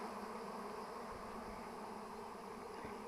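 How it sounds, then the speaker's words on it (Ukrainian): A honeybee swarm flies in to settle into a wooden hive box or log hive: a dense, steady buzzing of many bees, close and continuous throughout, with no talking. "Ну ось видно як злітаються бджолки. Ось літають."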